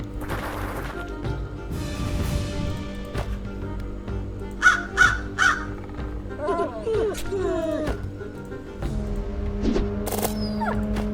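Crows cawing in the fantasy strategy video game Fantasy General II, three sharp caws in quick succession over a layered game soundtrack and ambient rumble, with a few softer scattered calls after.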